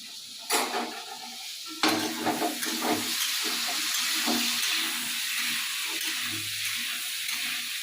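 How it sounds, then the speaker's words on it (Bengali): Potatoes fry in a pan with a constant soft sizzle. Sharp clanks and scrapes from stirring come early, then irregular quieter stirring knocks continue over the hiss. "এদিকে আলু ভাজাটা বসিয়েছি"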